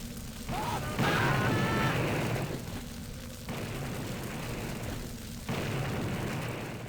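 Explosions from the Blood GDX video game: sustained loud booming blasts in several surges, with a broad rumbling roar filling the clip and short gaps between bursts.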